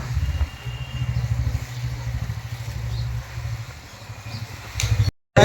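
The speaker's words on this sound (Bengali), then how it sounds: "আমাদের বাইক চালাচ্ছে" A motorcycle being ridden with a low engine hum that rises and falls as it moves along, ending in a short gap and then a sudden burst of noise.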